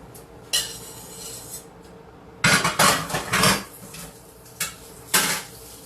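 Utensil scraping stuffed-shell filling into a metal baking pan, with a few sharp clanks and a cluster of scrapes and knocks mid-clip, quiet gaps between, no talking.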